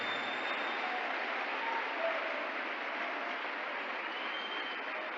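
A congregation applauds during a church service, a continuous even wash of clapping that sounds somewhat distant and filtered, holding steady with no talk over it.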